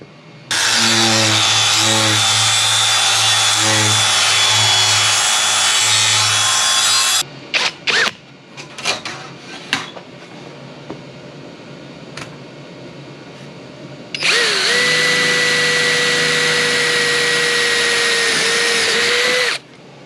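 A power tool with a flap disc whines loudly as it grinds a metal van roof in two long bursts, separated by a stretch of clattering and knocking.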